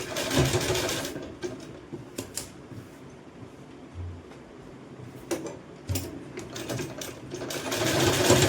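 A sewing machine stitches a long kurti in bursts of rapid mechanical whirring, with short pauses between runs and louder stretches at the start and end, with no talking.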